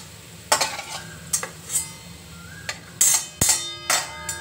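Fenugreek and garlic fry in a pan with a low, steady sizzle, broken by sharp scraping strokes and metal clinks from a stirring spoon, coming every second or so up close.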